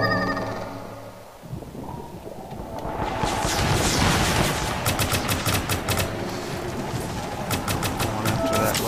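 Gunfire rattles in the Firefall shooter, rapid bursts of close automatic shots building after a quieter start and continuing in clustered volleys to the end, with a voice briefly heard.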